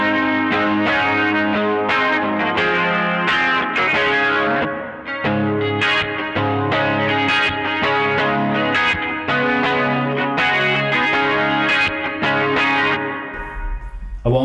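Electric guitar played through the chorus setting of a Caline multimod pedal, a steady run of strummed and picked chords with a shimmering, slightly distorted modulated tone, loud and continuous for the whole stretch.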